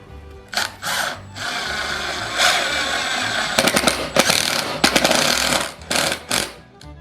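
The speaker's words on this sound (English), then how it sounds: "you're routing down the new piece you've made to the old piece" A router working a newly made wooden mould piece down to match the old one, in loud whining bursts that start and stop, with short pauses and rapid stuttering surges close by.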